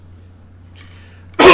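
A single abrupt, loud sneeze bursts out near the end after a quiet stretch with low hum and faint murmuring.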